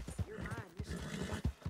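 A horse's hooves clip-clop in steady, rhythmic beats while riding in a video game, with a short whinny mixed in and someone talking over them.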